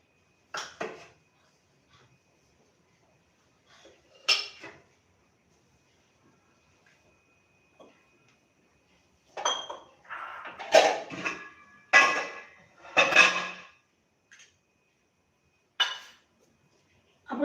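Mustard and cumin seeds crackle in hot oil, with scattered sharp popping bursts separated by quiet gaps and a busier cluster of spluttering pops near the middle.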